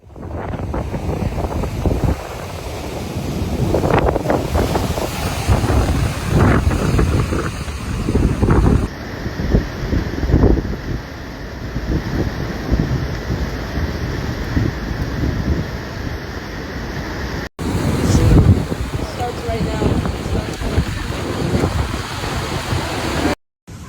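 A high tide pounds the beach and washes over dunes at Buxton on Cape Hatteras during a hurricane, with a continuous roar of heavy surf and strong wind buffeting the microphone throughout.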